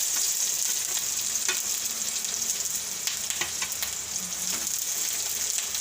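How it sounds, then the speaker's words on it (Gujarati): Green chillies and curry leaves sizzle steadily in hot oil for a bitter gourd chutney, a loud, continuous hiss dotted with sharp crackles and pops, with no voices. "આપણે લીલા મરચાં નાખી દેવું અને લીમડાના પાન નાખી દેવું"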